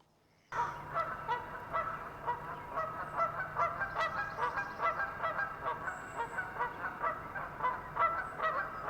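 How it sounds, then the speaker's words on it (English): Geese honk repeatedly and loudly at close range, a busy overlapping chorus of calls after a brief quiet start. "So there were a couple of geese just right there in front of me"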